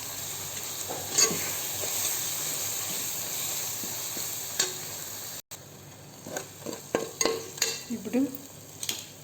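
Masala with chili powder frying for chicken biryani, a close sizzle with the spatula scraping and clinking against the pot, louder after a short break.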